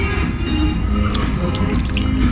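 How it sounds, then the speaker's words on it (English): Warm water splashes and runs steadily over feet as strawberry-colored exfoliating cream is rinsed off during a barbershop foot treatment in Oman, a close, continuous wash with no talking. "Now we are rinsing them, getting that strawberry colored cream and exfoliation off and the nice warm water."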